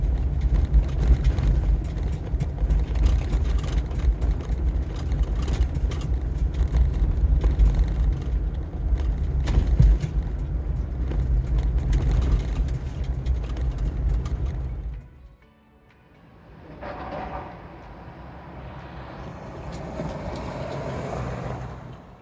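Lifted vehicle with an AccuAir 3.5-inch dynamic lift kit and JRI monotube shocks driving at 20 mph, giving a steady loud road and engine rumble that drops briefly near the end before rising again with a higher whine.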